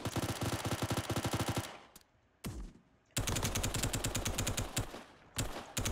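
Rapid automatic gunfire from weapons in the video game Roblox, loud, close bursts of fast repeating shots broken by short gaps and a lone single shot, with no talking.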